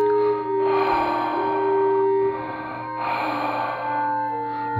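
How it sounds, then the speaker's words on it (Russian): Heavy, swelling breaths of an elephant used as a sound effect in a fairy-tale reading, two long surging exhalations rising and falling over a steady tonal background, close and fairly loud. "и раздуваясь до неба, задышал слон"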